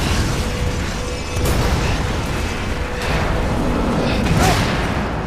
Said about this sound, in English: we see him take a lot of damage from the constant explosions that surround him